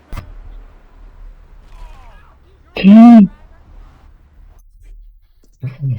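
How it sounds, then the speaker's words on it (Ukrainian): A single loud burst of gunfire in GTA 3 stands out from quieter background noise, with a brief second report near the end. "Ой, як стріляють."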